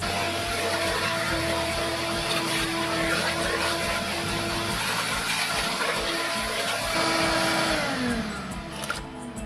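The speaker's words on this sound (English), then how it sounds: "And now I'm going to vacuum the rest of the stuff away." A vacuum steadily whines and roars as it sucks salt residue from carpet, a constant close hum with shifting pitch that eases off near the end.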